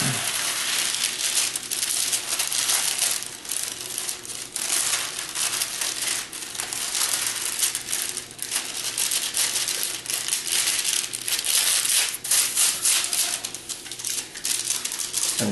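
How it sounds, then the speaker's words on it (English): Parchment paper crinkles and crumples steadily and loudly at close range while a jelly roll pan is lined with it, with sharp crackling bursts continuing almost without pause. "And then I'm going to line it with parchment paper."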